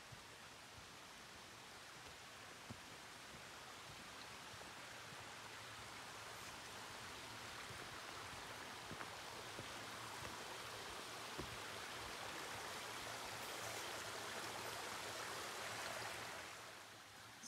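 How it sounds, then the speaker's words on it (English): A mountain stream beside a hiking trail in the White Mountains of New Hampshire, a steady broadband rush of flowing water, fairly close and constant, with no voices. "I've just crossed this stream here"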